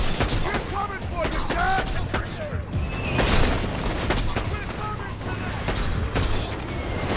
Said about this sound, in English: Engaging auto cannons.